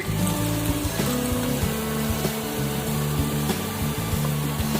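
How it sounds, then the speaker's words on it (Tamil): Masala-coated peanuts frying in a pan of hot boiling oil, a steady dense sizzle and crackle running continuously at close range with a low hum beneath and no talking. "எண்ணெய் பாயில் ஆயிடுச்சு. இதுல இப்ப மசாலா கடலை போடுறோம்."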